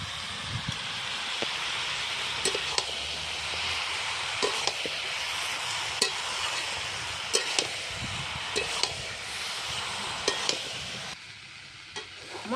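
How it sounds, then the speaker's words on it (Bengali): Mixed vegetables, among them cabbage and spinach, sauté in a pan with turmeric, chili and cumin powder, giving a steady soft sizzle broken by sharp scraping clicks of a stirring spoon. "মশলা দিয়ে সব সবজি কষানো হয়ে গেছে"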